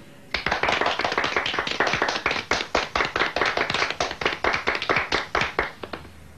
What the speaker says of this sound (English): Let's applaud Mr.